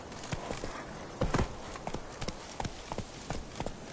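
Roach the horse galloping in The Witcher 3: Wild Hunt, rapid rhythmic hoofbeats thudding close and loud in a steady run, with a few heavier clustered strikes and no talking.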